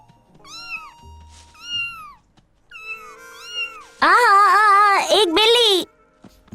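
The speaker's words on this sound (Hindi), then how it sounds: "ये किटन है।" A small injured kitten mews in thin, high cries, a few soft calls spaced apart before a long, loud, wavering wail near the end, with quiet voices around it.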